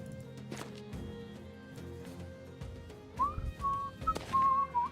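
Someone whistles a short wavering tune midway through, faint and slightly distant, over a steady low background hum with occasional knocks and no talking.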